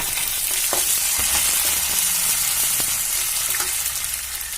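Onions frying in hot oil for idli upma, a steady close sizzle with scattered crackles and pops throughout, no voices over it.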